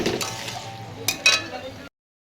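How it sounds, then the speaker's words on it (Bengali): Fish stirred into a spice masala in a pan: a soft scraping and sizzling bed with two sharp spoon-against-pan clinks near the middle, close and moderately loud, ending abruptly. "এবার ভালো করে একটু নেড়ে চেড়ে নেব"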